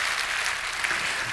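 A church congregation applauding, dense clapping at a steady, fairly loud level for a brief moment, with no talk over it.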